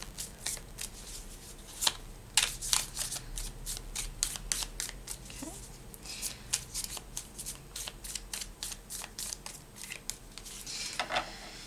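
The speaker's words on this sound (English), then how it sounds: "Right, so your cards are all shuffled now." Tarot cards are shuffled by hand in a steady, quiet riffle of rapid papery flicks and snaps that goes on for several seconds with no talking.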